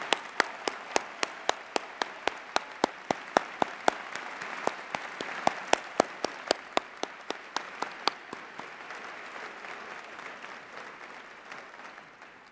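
A large audience at a 130th commencement ceremony applauds the faculty with dense clapping. Sharp, evenly spaced rhythmic claps ring out on top for several seconds, then the applause gradually fades.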